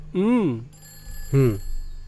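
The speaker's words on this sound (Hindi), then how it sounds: "सोलोमन, जरा फोन उठाओ।" Two warbling electronic ring tones sound about a second apart, close and fairly loud, with a faint high hum between them.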